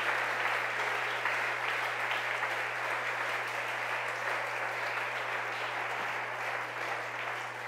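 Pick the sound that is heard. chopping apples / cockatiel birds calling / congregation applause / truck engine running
congregation applause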